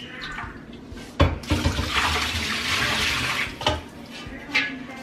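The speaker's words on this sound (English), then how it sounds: "So I need to dump the canner out because I didn't dump it yesterday, but it's just the water and vinegar." Water and vinegar poured out of a home canning pot into a sink, a steady broadband rushing pour with a few sharp clunks of the metal canner, close and fairly loud.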